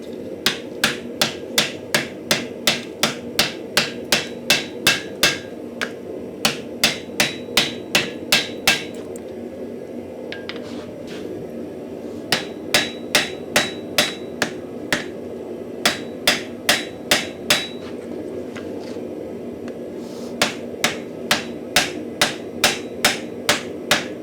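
A hammer strikes hot steel in quick, even, ringing blows to set a forge weld on a Finnish-style axe. Two long bursts of loud, close hits are split by a brief pause, with no talk.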